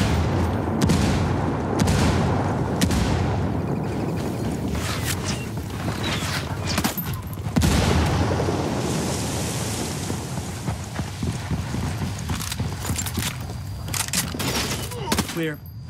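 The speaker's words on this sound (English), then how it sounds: "Incoming mortars on your position, Black." Mortar shells burst in a video game firefight amid rain and distant thunder-like rumbles, with scattered booms and gunfire throughout and people talking over the din.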